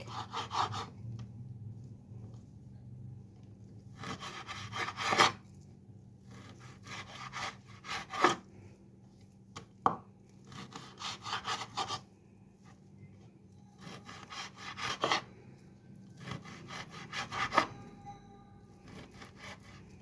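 Small pieces of meat cut by knife at home, heard as rhythmic sawing strokes in bursts with brief pauses between, close and fairly clear, with no talking.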